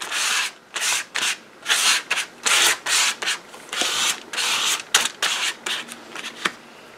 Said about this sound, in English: do some credit card manipulation, like just scrape some paint on there